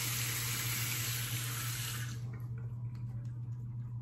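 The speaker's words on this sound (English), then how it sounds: "I think I'm gonna paint some water into this" Water runs steadily from a tap for about two seconds while being added to a Barrister and Mann Seville shaving soap, then cuts off, leaving faint drips and small wet sounds over a constant low hum.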